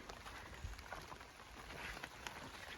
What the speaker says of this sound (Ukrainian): зараз трошки дощик накрапає